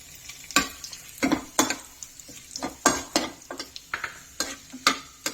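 Cashews, cumin seeds and dried red chilies fry in hot oil for a cabbage masala curry, with repeated sharp spoon-against-pan scrapes and clicks over a soft, steady sizzle; no one talks.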